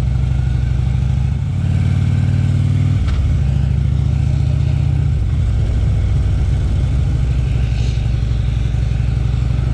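Motorcycle engine pulling hard in first gear, loud and close, with a strong low drone that rises and shifts pitch as it accelerates, continuing steadily for the whole stretch.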